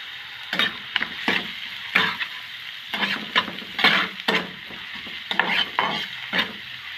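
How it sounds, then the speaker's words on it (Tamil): Chopped onions frying in hot oil for a Tamil-style egg roll filling, with repeated short bursts of sizzling and stirring scrapes in an uneven rhythm, close and moderately loud, with no talking. "எண்ணெய் சூடாகினதுக்கு பிறகு வெட்டி வச்சுருந்த வெங்காயத்தையும் சேர்த்து கொள்ளுவோம்"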